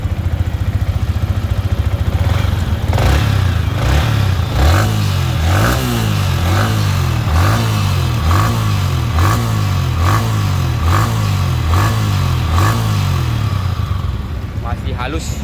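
A 2019 Kawasaki Ninja 250 FI engine revs repeatedly, rising and falling in a steady series of throttle blips over a running idle, loud and close throughout.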